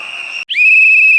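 A sharp, shrill whistle is blown close and loud, one steady blast that briefly breaks off and then resumes as a long sustained tone.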